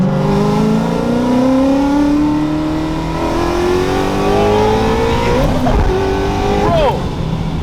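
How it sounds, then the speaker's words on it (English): Supercharged Ford GT350R making about 900 wheel horsepower, its engine roaring loud and close as revs climb steadily and drop sharply during gear changes. "He has a GT350R with a Pro Charger making 900 wheel horsepower"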